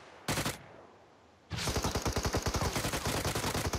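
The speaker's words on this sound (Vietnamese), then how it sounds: "thanh niên bắn cái gì mà súng gì mà đau thế. Chắc M416 rồi." An M416 rifle in PUBG Mobile fires one short burst, then after a pause a sustained stream of rapid, evenly spaced automatic shots that run steadily to the end, loud and close with no talking.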